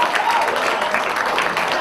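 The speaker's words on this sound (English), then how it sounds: "Clap your hands and make some noise if you're 25" An audience at a charity comedy night claps and cheers in a dense burst of applause, loud and close, with voices mixed in through the brief moment.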